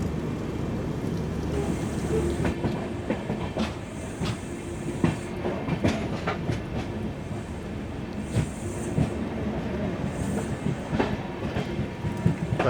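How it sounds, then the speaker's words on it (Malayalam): Poorna Express creeping slowly into Londa Junction station, a steady rumble of rail cars with scattered clickety-clack wheel beats and metallic squeals, close and continuous throughout. "ഇതൊരു വളരെ സ്ലോ എൻട്രി ലോണ്ട സ്റ്റേഷനിലേക്ക്."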